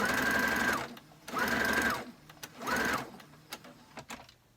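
A sewing machine stitches a short top-hung curtain in three loud bursts of rapid whirring, separated by pauses with faint handling clicks and rustles.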